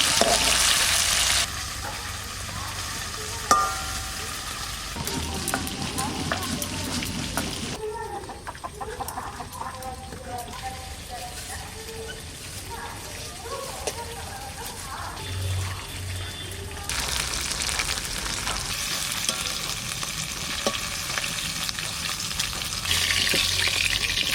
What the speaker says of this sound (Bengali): এটা বেশি ভাজবো না একটু হালকা ভেজে নেব